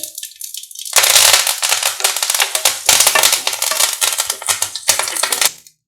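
Cumin and curry leaves for a coconut chutney tempering burst into loud, dense crackling and spitting in hot oil, starting sharply after a quiet second and sputtering on steadily before cutting off at the end.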